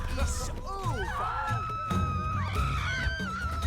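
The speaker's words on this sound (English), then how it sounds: "I like how they're all just screaming." A crowd of characters screams and shrieks in The Witcher 3: Blood and Wine, with overlapping wailing voices rising and falling over a few seconds among busy game sounds.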